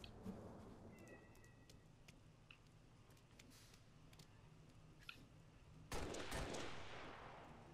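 Gunfire in the video game Halo: Reach, quiet and distant bursts of shots over a low ambient hum, with a louder burst of noise toward the end.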